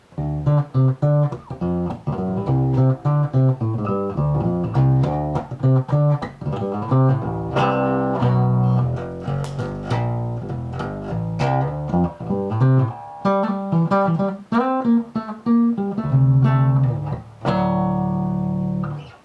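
A 1967 Rickenbacker 4005 bass guitar, its tone knobs turned down, plays a steady run of plucked, rounded notes in a rhythmic line, clear and alone.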